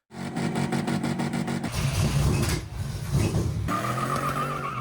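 The engine of a 1968 Ford Mustang drag car runs loud and close, with a pulsing rhythm at first, then a rougher, heavier stretch before it settles into a steadier drone.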